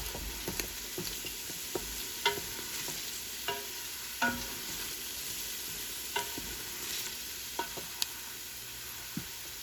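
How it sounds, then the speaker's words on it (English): Marinara sauce with garlic is stirred in a pot, a soft, continuous simmer with scattered light spoon knocks against the side, quiet and close with no voices. "Give it a good stir."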